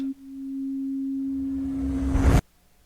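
A teleporter in the video game Telio emits a pure, steady sine tone that holds at one pitch while a rising whoosh swells beneath it, then both cut off abruptly, leaving near silence.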